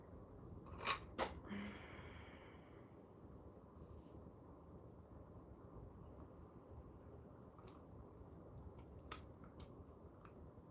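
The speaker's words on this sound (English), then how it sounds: "I have to try and cut this nicely" Scissors cut fabric at a sewing table: a few quiet, crisp snips near the start and again toward the end over a low, steady background hum.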